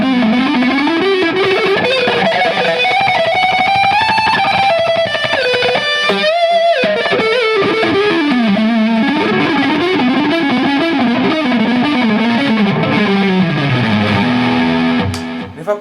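Electric guitar played through the neck pickup with distortion and effects, ripping through very fast legato runs and bends that climb and fall, loud and continuous with no speech.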